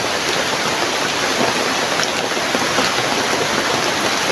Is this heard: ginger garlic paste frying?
no